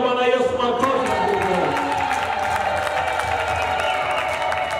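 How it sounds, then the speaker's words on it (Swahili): A church congregation claps for Jesus, a sustained spread of handclaps mixed with voices and cheering that stays fairly even throughout, with sung or sustained tones ringing beneath. "Shema amenisaidia kumpigia Bwana Yesu makofi."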